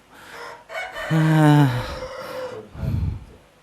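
A chicken clucks and then crows in a short rooster-like call, close and fairly loud, followed by a rough squawk, with faint background noise.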